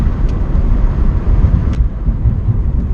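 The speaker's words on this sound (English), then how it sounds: "All right, so going about 50 miles an hour right now. I'm just gonna do a quick brake." Mazda NC Miata fitted with StopTech rotors, HPS pads and stainless brake lines braking hard from about 50 mph, heard from the cabin as a loud low road rumble that eases off as the car slows, with light wind buffeting.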